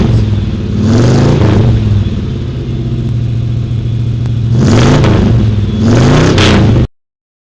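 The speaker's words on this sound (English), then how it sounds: "let's rev it up for them hot rods." A hot rod engine at a nighttime car show revs loud and close in repeated blips, rising and falling roars with a rough idle between them, then a sudden cutoff.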